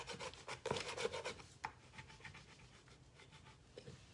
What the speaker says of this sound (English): I'm going to burnish this bottom right here.